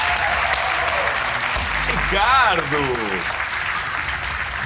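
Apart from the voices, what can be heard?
studio audience applause for quiz champion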